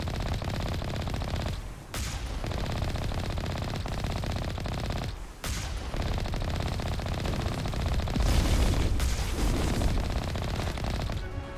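Sustained gunfire from snipers and other weapons in the Mass Effect video game, a dense, loud barrage of rapid shots running almost continuously with two brief lulls, heavier toward the end.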